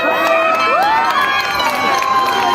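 A crowd at an event celebrating Karan Sathaliya cheers loudly, with excited shouts and whoops from many voices layered over one another, close and continuous throughout.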